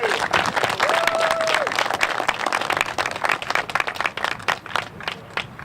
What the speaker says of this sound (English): So give Mr. Michael a huge round of applause as he ascends to the microphone.